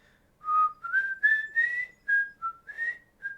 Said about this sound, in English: I'm whistling this little tune